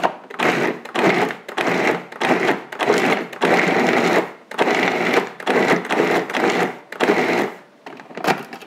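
A food processor pulses pistachio cookie dough, a shortbread-like mix, in a rapid run of loud whirring bursts with short gaps between them. No voices.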